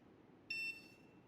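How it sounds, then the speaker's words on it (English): A single short electronic beep from a computer motherboard at power-up, clear but quiet against a faint hum of the fan. "Whenever I turn on the PSU, then the CPU fan will turn, and then you immediately hear the sound of beep"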